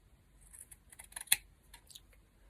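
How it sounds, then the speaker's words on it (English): Scissors snip paper during journal crafting, a few quiet, crisp cutting clicks clustered over a couple of seconds with one sharper snap, close and soft against a near-silent background. "Scissors."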